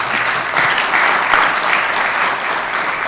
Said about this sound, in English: A round of applause as well due here.